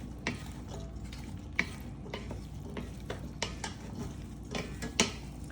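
Shrimp and black beans are stirred in a pan, with repeated spoon scrapes and clicks against the metal over a low, quiet sizzle.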